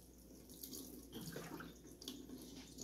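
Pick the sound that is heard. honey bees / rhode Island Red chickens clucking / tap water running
tap water running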